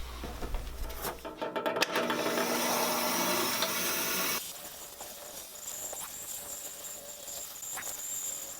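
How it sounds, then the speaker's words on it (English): A bandsaw cuts through acoustic guitar back wood, with a loud rasping whine for a few seconds before the blade runs free and quieter, no talk. "So what I need to do now is cut this out on the bandsaw."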